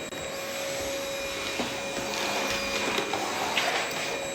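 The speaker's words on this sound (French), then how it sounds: "j'ai ma petite secrétaire qui suit l'aspirateur partout" A household vacuum cleaner running steadily nearby, a constant droning hum with a faint high whine and light knocks as it moves.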